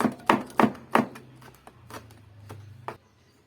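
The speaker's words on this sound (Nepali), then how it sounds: "मसिनो हरियो खुर्सानी मजाले काट्छु" A knife chops green chillies finely on a board in about nine crisp strokes, brisk and evenly spaced at first, then sparser, over a low background hum before falling silent.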